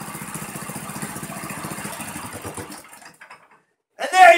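A Predator 212 small engine fitted with a torque converter and clutch runs with a rapid, buzzy idle pulse that fades out and stops, followed by a brief loud burst of noise after a pause of silence.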